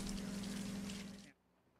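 Fresh water from a hose gently runs over a diver propulsion vehicle, a steady close rushing wash that cuts off abruptly near the end, leaving near silence.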